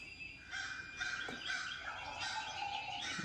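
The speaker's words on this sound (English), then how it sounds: "There's a turkey actually roosting up here in this tree." A wild turkey roosting in a tree at night gives soft, distant yelping calls in a short series, faint against quiet outdoor night ambience.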